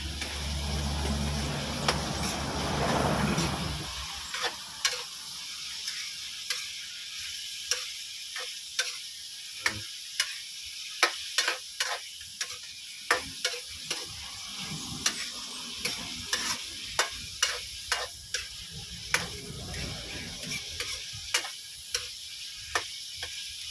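Cassava leaves cooking in a pan are stirred with repeated sharp scrapes and taps of a utensil against the pan, in an uneven rhythm over a faint sizzle after a louder opening burst.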